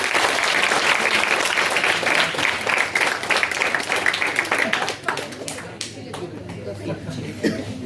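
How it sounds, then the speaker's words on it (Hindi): At a bhajan singing competition, the audience claps to welcome the chief guest. The applause is full and steady at first, then thins into a few scattered claps near the end. "तो कृपया आप तालियों से स्वागत करें"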